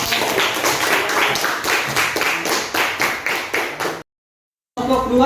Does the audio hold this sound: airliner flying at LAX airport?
no